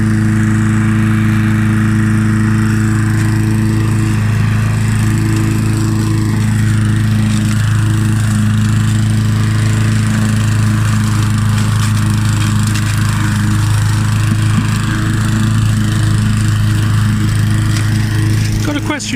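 A Mountfield M4 lawn mower runs steadily while mowing, its engine drone loud and close for the whole stretch, with no speech.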